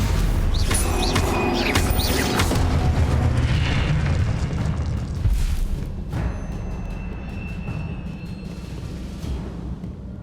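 Stupefy spell combat in Hogwarts Legacy: dense, loud magical bursts and booming impacts crowd the first half, thinning to a lower rumble with faint whistling tones later, no talking over it.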